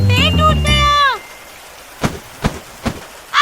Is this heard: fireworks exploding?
no